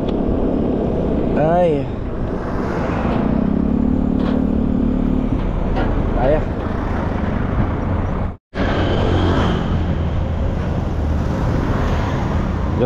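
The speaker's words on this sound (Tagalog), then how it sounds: "Ito, highway, oh. Start na kagad yung traffic." Morning rush-hour traffic building on a highway, cars and trucks giving a steady broad road roar throughout, with a brief drone and a short dropout midway while someone speaks a few words over it.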